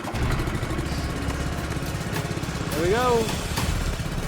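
A compressor feeding air to a gold dredge runs steadily with a low, continuous engine drone, as people talk briefly over it.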